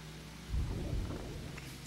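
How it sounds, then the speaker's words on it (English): A low, muffled thunder rumble swells up about half a second in and slowly fades, sounding from inside a crystal in a video game, faint and alone. "there seems to be thunder inside the crystal"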